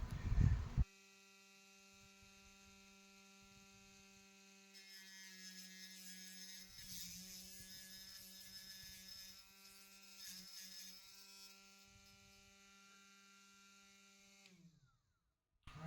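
A power tool cuts an arrow shaft shorter with a steady high whine and harmonic hum, rising into a harsher grinding about midway, then spinning down to a stop after roughly fifteen seconds, close and alone.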